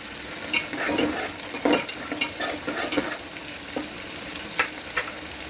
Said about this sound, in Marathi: त्यानंतर वाटाणे, हे 2 मिनिटे जरा मी तेलामध्ये भाजून घेणार आहे